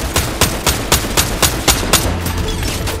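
Rapid gunfire in Fortnite as players shoot at a turret: a steady series of about a dozen sharp, loud shots at an even rhythm, close up, with a low hum underneath.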